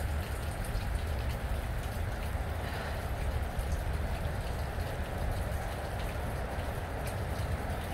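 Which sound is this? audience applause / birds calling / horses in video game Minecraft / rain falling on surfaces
rain falling on surfaces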